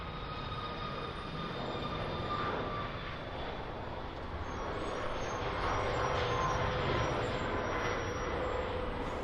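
Airliner departing Birmingham Airport, a broad steady jet roar with a faint whine, heard from a distance and swelling slightly as it climbs away.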